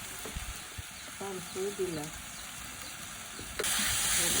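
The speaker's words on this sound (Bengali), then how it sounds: "মশলাগুলোকে ভাজতে থাকবো ততক্ষণ যতক্ষণ না এর গা থেকে তেলটা ছেড়ে আসে।" Garlic and ginger paste with spices fries in oil for a village-style fish curry, a soft, steady sizzle running throughout, with a few short tonal chirps early on and the hiss swelling louder near the end.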